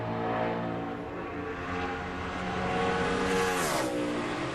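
A NASCAR stock car engine on a qualifying lap at the 2005 UAW GM Quality 500, a loud, continuous high-revving roar that holds steady, then dips in pitch as the car lifts or passes.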